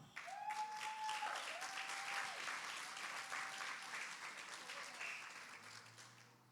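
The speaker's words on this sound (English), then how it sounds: "Keep clapping until he gets here." An audience at an adult talent show keeps up steady, moderately distant applause, with a few brief tonal sounds over the clapping and a low hum near the end.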